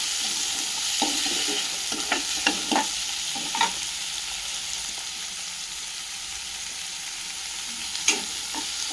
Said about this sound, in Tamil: கருவேப்பிலை, ஒரே ஒரு பச்சை மிளகாய், நல்லா பொன்னிறமாக வர வரைக்கும் வதக்கிடலாம்.